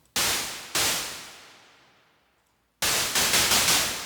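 Harsh noise-like hits from a DRC synthesizer, the second one ringing out in a long reverb tail that slowly fades, followed by a rapid string of repeated bursts.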